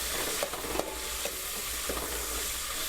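Ingredients for bagara rice frying in oil in a pan, a soft steady sizzle with a few gentle stirring scrapes, quiet and close, no talk.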